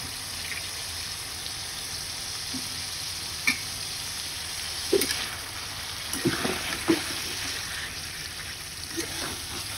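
Pangas fish sizzles gently in a hot pan as it goes in to be cooked, a steady soft frying hiss broken by a few faint clinks and splashy stirring noises nearby.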